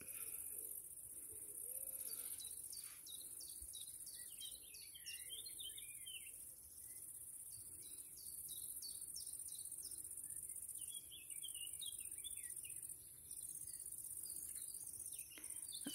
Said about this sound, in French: les bruits des oiseaux, puisque je les laisse venir